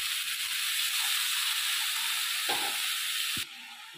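Boiled banana flower sizzles steadily in spice masala in a wok, a loud, even frying hiss with a couple of soft utensil knocks near the end before the sizzle eases slightly.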